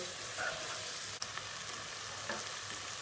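Bean stew seasoned with black pepper is stirred once in a pot, a faint soft sizzle with a brief scrape of the spoon, quiet and close with no voices.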